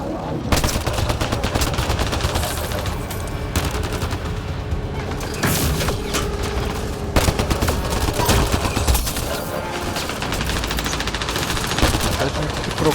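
Dense, continuous gunfire in the video game Mass Effect Andromeda: rapid automatic bursts and booming shots overlap without pause, loud and close, with faint voices mixed in.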